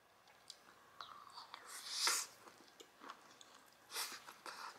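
Close, soft chewing and smacking of shrimp paella at a mukbang meal, with a few wet bites and crunches spread across a few seconds and faint whispery mouth noises, no talking.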